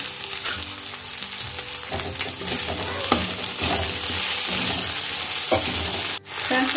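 Arbi leaf curry with mustard paste sizzles loudly in a pan as tomatoes are added, a steady close frying hiss with stirring clatter and a brief dip near the end.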